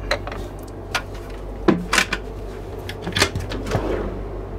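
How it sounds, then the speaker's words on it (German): Cupboard doors and drawers in a 2023 Concorde Centurion 910 MI luxury motorhome open and close in a series of close, sharp wooden clacks and thuds, several in quick succession. "wir machen mal hier ein paar Schränke auf"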